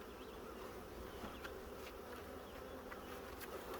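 Honeybees swarm around an open hive during a backyard inspection, their soft, continuous buzzing faint but steady, with no talking.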